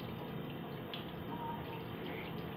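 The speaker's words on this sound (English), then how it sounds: "I'm running my hand in the sink under the water" Tap water runs into a sink and splashes over a hand, a close, steady rushing hiss with small drip-like accents throughout, and no talking.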